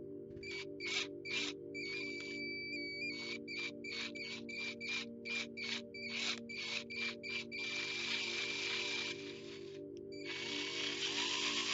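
A power tool loosens screws on the transmission of a nitro RC drag car in a series of short, close whirring bursts. Longer continuous runs follow near the end, over a steady low hum.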